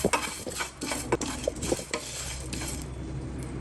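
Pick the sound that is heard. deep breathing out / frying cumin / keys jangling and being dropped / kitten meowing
frying cumin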